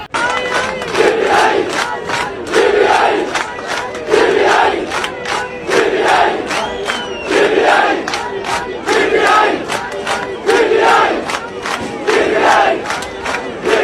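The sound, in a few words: students and soldier chanting Imran Khan Zindabad slogans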